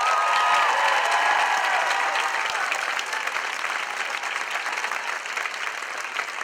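Outdoor crowd at a climate strike rally applauding and cheering after a speech, a dense, sustained burst of clapping with whoops that slowly thins out.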